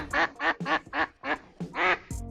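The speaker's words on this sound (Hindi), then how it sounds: "ये है हमारी डक।" A duck quacks repeatedly, about seven loud nasal calls in a quick, uneven series, close by with no talking.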